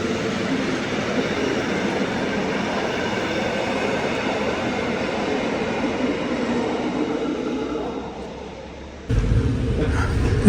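A train on the Rhaetian Railway in Switzerland rumbles past as a loud, steady broadband roar that eases slightly before an abrupt louder burst near the end.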